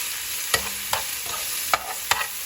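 Shrimp with garlic and onions frying in a pan: a steady sizzle broken by about five sharp stirring scrapes and clanks at irregular intervals.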